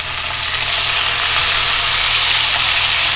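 Blended onion and garlic hits a hot pan while cooking Mexican pork with guajes in green salsa, giving a loud, steady, continuous sizzle that holds evenly from start to finish with no talk over it.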